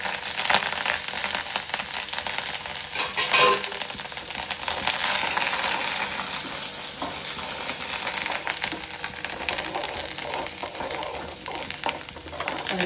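Curry leaves sizzle in hot tempering oil for ginger pickle, a steady loud crackling hiss that runs throughout with no talk.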